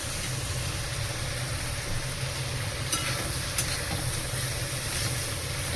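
Vegetables and tomato cooking in a pan with a steady, even sizzle and hiss after water is added, close and continuous, with no speech.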